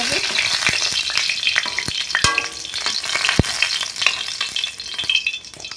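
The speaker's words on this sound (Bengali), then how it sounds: "লাল লাল করে ভেজে নেবো পটলগুলো নরম হয়ে যায় সুন্দর" Pointed gourd (potol) pieces fry in hot oil, giving a close, continuous crackling sizzle with scattered sharp pops and occasional scraping stirs, no voices.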